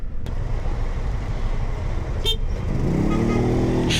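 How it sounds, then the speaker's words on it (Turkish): A car horn toots in busy Istanbul traffic, a short, loud, nearby blast rising over a steady rumble of engines and road noise, with no talking. "Işık yanar yanmaz kornaya bastım."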